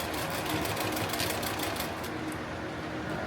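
A sewing machine runs steadily while stitching a tactical plate carrier, a continuous close, fairly loud mechanical whir with a quick rhythmic chatter throughout, no talking.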